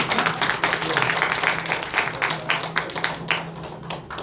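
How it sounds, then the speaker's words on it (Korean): Audience applause at a New Year ceremony workshop with recreation activities, a steady wash of clapping at moderate loudness over a low constant hum, with no voices over it. "박수 한번 주세요."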